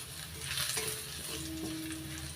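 Garlic and onion fry together in a pan, a steady hiss and crackle with a brief stir scrape midway, close and moderately loud with no talking.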